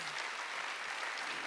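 A church congregation claps together during a Korean Sunday worship service, a steady dense wash of hands at moderate level with no voices over it.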